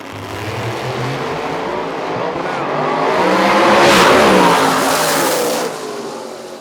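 Drag race cars launch side by side down a racetrack at a Lights Out event, a loud broadband roar that swells to a peak midway, then drops off as they pull away, with faint announcer talk underneath.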